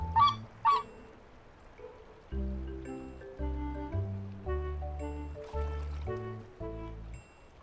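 A swan honks in the Love & Deepspace video game, a short run of nasal, horn-like calls in uneven bursts, clear and fairly close, over a quiet background with a faint trickle.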